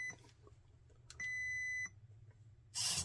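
Short electronic beeps from a Radiolink Cool 9030 V2 RC car ESC during calibration: a brief chirp, then a sustained steady tone lasting under a second, followed by a burst of noise at the end.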